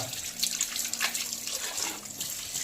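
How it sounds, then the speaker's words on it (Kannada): Raw chicken pieces are washed under a running tap, a close, continuous gush and splatter of water with uneven splashing as the meat is rinsed by hand. "ಚಿಕನ್ನ ಚೆನ್ನಾಗಿ ತೊಳೆಯೋದ"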